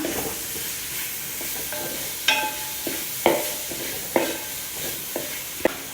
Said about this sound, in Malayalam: അതിൻ്റെ പച്ചമണം മാറുന്നത് വരെ നന്നായിട്ട് ഇളക്കി കൊടുക്കാം